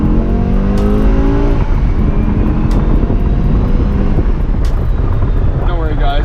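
BMW M5 V10 fitted with a DINAN exhaust, driving close by with a loud engine roar that rises and falls through rev changes, while people talk over it.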